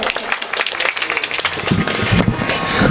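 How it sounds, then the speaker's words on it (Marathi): Audience applause breaks out at a Marathi kirtan, loud clapping from a crowd that thickens into a continuous roar of hands. "एकदा जोरदार टाळ्या झाल्या पाहिजे दादांसाठी."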